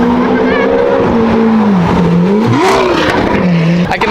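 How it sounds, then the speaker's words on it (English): Lamborghini Aventador with a naturally aspirated V12 passing close by, a loud, high-pitched engine wail that rises and falls in pitch as it revs past, with some talk in the background. "we got an Aventador naturally aspirated V12."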